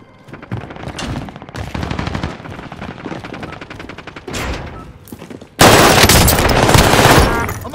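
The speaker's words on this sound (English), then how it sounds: "I'm under fire." Loud, close gunfire in the video game Call of Duty Warzone: rapid automatic bursts rattle in repeated volleys, then a dense, sustained roar of shooting fills the final seconds.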